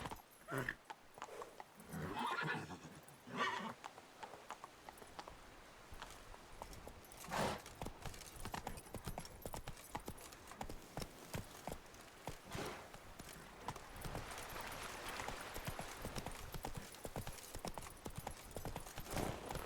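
Horse hooves clip-clop steadily on a road in The Witcher 3: Wild Hunt, a rhythmic trot running throughout the clip, with a short shout near the start and game ambience underneath.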